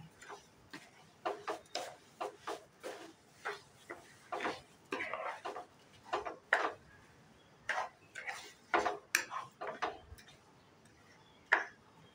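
Food seasoned with sugar, black salt and chilli flakes stirred in a pan, giving a series of close, crisp utensil taps and scrapes in an uneven rhythm against a quiet background.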